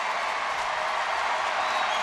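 Stadium crowd of about 30,000 on its feet cheering at a Rangers home baseball game against the White Sox, a steady, dense roar of voices and applause filling the whole stretch without a break.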